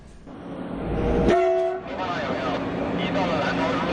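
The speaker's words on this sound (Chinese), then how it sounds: "跑了一天的高铁列车都会依次驶入检修车间接受体检" A high-speed train pulls into a maintenance depot at night, sounding a short, loud horn blast over a steady rail rumble, while a person talks over the noise.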